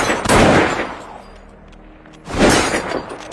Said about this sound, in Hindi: तभी अचानक एक गोली चलने की आवाज आई जिसने उसके पिता के हाथ रोक दिए।